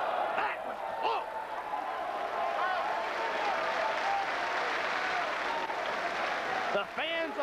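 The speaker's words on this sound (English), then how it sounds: "The fans applauding the athletic abilities of both luchadors." A wrestling crowd at a 1999 ECW lucha libre match between Super Crazy and Super Caló claps steadily for about seven seconds. Scattered shouts and voices rise above the dense, sustained applause.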